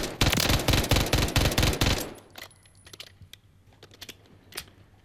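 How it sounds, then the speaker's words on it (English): Rival 9 SMG in Call of Duty: Modern Warfare III fires a loud, dense automatic stream for about two seconds, followed by faint clicks, shell-casing tinkles and a few sharp mechanical ticks. "if you hold down the trigger, then it will continue firing"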